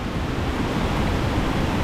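Rushing water at the top of a waterfall at Topes de Collantes: a loud, steady broadband roar close by, continuous and unbroken, with some wind buffeting.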